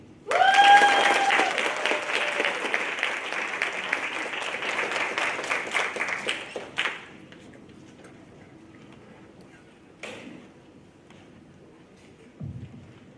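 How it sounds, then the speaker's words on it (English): Audience applause at the end of a soapbox speech at a Social Justice Day event, a burst of dense clapping that lasts several seconds, then fades to a few scattered claps and quiet room noise. "Let's give another warm round of applause to Rain."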